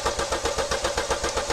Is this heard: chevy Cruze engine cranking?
yes